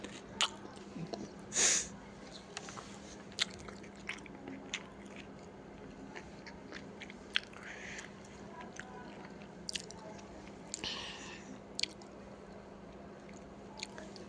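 Fried snacks seasoned with chaat masala are chewed close to the mic, giving soft, wet bites and intermittent crunches with quiet pauses in a calm room at home.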